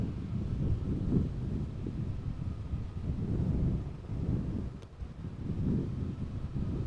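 Steady wind buffeting a microphone outdoors at Amsterdam Schiphol Airport near water, a continuous low rumbling roar that swells and eases without pause.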